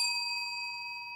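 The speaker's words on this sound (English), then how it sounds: "Construction round, 3 minutes 30 seconds, you will be hearing the third bell sound." A single bell ding signalling a round at a construction competition event, ringing out clearly and decaying slowly with a sustained metallic tone, alone without voices.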